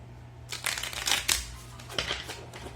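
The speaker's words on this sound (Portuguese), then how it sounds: "E daí nós temos as 104 cartas devidamente embaralhadas" Two decks of playing cards, 104 cards, shuffled together by hand for a school game, a quick series of riffling, rustling bursts close by, moderately loud, with no talking.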